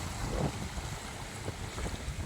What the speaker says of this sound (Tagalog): grabe na yung alon